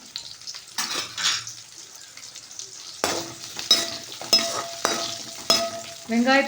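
Shallots and garlic sauté in refined oil in a pan, with a soft sizzle broken by sharp spoon scrapes and clinks against the metal, growing busier toward the end.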